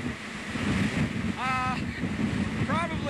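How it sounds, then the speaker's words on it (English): Hurricane Ike's fierce wind pounds a reporter's microphone on the coast, a continuous loud roaring rumble, while someone speaks briefly over it. "I've got to scream into the microphone, too, because it's so windy"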